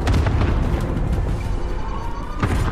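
A video game airstrike explodes as a loud, sustained rumbling blast with rolling low booms and crackling bursts throughout, near and dominant.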